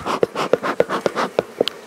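A honeybee colony readied for winter hums with a steady, close buzz, broken by a regular series of sharper pulses repeating about every quarter second, with no voices.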